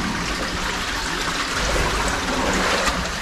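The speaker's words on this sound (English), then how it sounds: "The water's coming flooding in." Water flows into a deep pool inside a cave, a steady broad rushing and trickling wash that stays constant and fairly loud.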